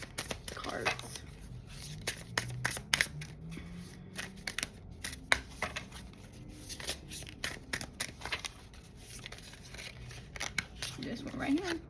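Tarot cards being shuffled, with a run of crisp, rapid papery clicks and riffles spread across the whole stretch, while a faint voice murmurs in the background.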